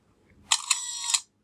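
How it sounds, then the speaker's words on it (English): A Windows Phone camera shutter fires once for a photo: a short, crisp mechanical click-and-whir lasting under a second, with sharp snaps at the start and end, heard alone in a quiet room. "you'll see that the shutter sound comes in"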